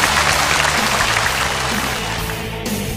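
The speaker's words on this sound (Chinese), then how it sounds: "接下来让我们掌声有请今天的第二组选手登场" Studio audience on a Chinese variety gala show applauding as the second group of contestants is welcomed onstage, a dense steady wash of clapping with music underneath, no talk.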